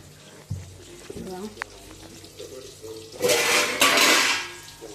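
Onion frying in oil in a pan in a home kitchen, with a loud sizzling burst rising suddenly late in the clip after quieter kitchen clatter and faint background noise.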